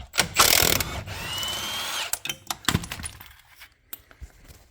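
Mechanical ratcheting and clattering as the last wheel nut comes off the passenger-side rear wheel of an Iveco 75E15 truck during on-site axle removal, a loud burst of metallic tool noise followed by sparse clicks and knocks.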